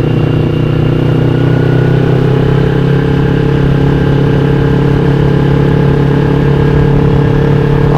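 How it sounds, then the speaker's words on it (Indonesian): A carbureted Kawasaki Ninja 250 two-cylinder motorcycle engine idles and runs close by, a loud steady droning hum with a firm low pulse that holds evenly throughout, with no voices over it. "motor 2 silinder karena cukup enak sekali didengar suaranya gitu guys"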